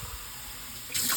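Warm water runs from a tap in a steady, close hiss that swells into a louder, fuller gush near the end.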